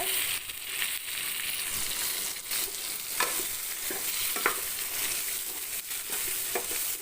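Onions and spices, including fennel seeds, sautéing in a pan for a dried fish and eggplant curry, a steady sizzle with scraping stirs and occasional clinks of the spoon against the pan.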